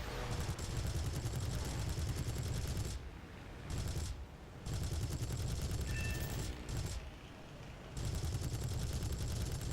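Bursts of rapid, heavy aircraft cannon fire from a Beaufighter in the War Thunder video game roar in long sustained volleys, separated by brief pauses, all against a constant loud engine drone.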